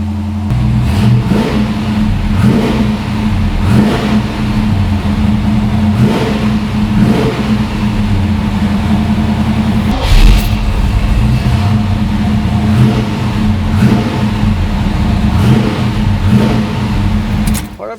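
A 1970 Chevrolet Chevelle SS 454 V8 rumbles at idle, then revs up repeatedly in loud, throaty bursts that rise and fall, close by with a faint voice underneath.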